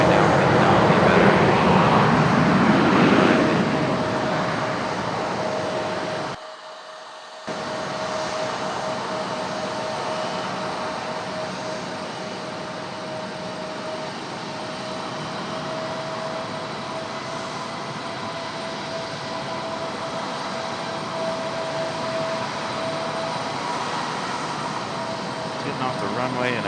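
An airplane on the runway at Raleigh-Durham International Airport gives a steady, loud engine roar with a thin sustained whine, continuing unbroken except for one brief dropout.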